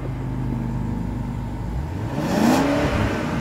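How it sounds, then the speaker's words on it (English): A 2016 BMW 750i's engine revs from a smooth idle, its pitch rising in one short, fairly subdued climb and then settling, with no talking. "We're going to go to the back and do a little rev time with Trish."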